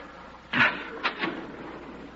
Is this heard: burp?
no